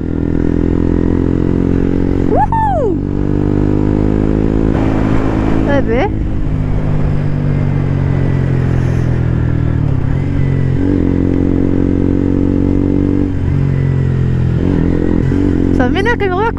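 A motorcycle engine roars steadily and loudly throughout the ride, with wind rush and occasional shifts in engine pitch.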